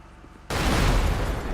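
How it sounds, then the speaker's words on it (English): Explosive-ammo blast in Grand Theft Auto V, modded for LSPDFR: after quiet game ambience, a sudden loud broadband burst that lingers as a dense, rumbling roar. "let's see if our explosions are smaller now"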